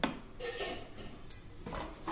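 Urad dal flour is tipped into roasted rice flour in a metal vessel, giving quiet, close scrapes and light clinks of utensil against the pot in short bursts, with no talking.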